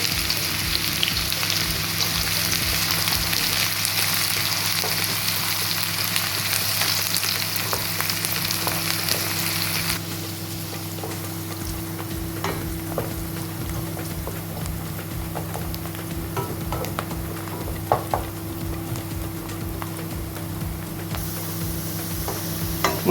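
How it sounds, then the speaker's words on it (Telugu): Onions sautéing in hot oil for Amritsari chole masala, a steady close sizzle and crackle throughout with occasional stirring clicks, dropping slightly in loudness partway through. "ఇప్పుడు నేను ఏం చేస్తున్నానంటే దీంట్లో ఉల్లిపాయలు వేస్తున్నాను. ఉల్లిపాయలు సాటే చేద్దాము."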